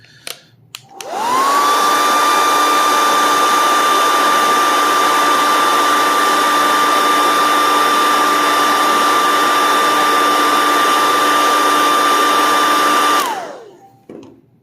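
A heat gun softening the back glass of an LG Velvet phone switches on with a rising whine, blows in a loud steady roar for about twelve seconds, then winds down.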